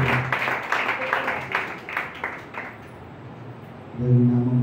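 A church congregation clapping together in a rhythmic burst of applause that fades out, followed by a voice starting to speak.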